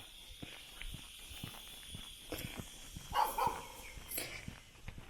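Several dogs bark at a distance along a running route in Mae Wa National Park, Thoen, Lampang, Thailand. The barks are faint, scattered and intermittent, with soft footsteps and outdoor ambience.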